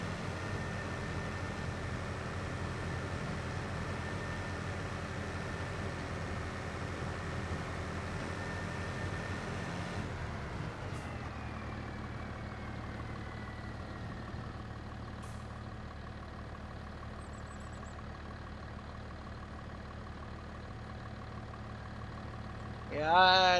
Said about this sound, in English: You can definitely tell this tractor is struggling with this trailer the more and more it gets loaded.